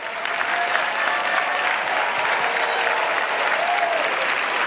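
A large conference audience gives a round of applause, a dense, steady wash of clapping from many hands that continues loud and unbroken throughout.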